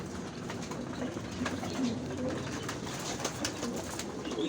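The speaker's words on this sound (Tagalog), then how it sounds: "alaga kong kalapate. At iba't ibang kulay. Ayan, yung iba nito pang racing." A flock of pet pigeons of mixed colours, some of them racing birds, coos close by with scattered soft chirps over a steady ambient hum.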